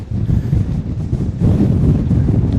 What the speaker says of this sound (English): Super windy again up here.